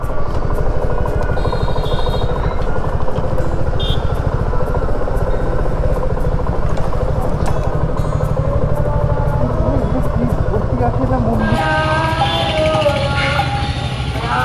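A new Royal Enfield motorcycle near the Loknath temple, its engine running steadily and close for the whole stretch, joined by a brighter, shifting tone near the end.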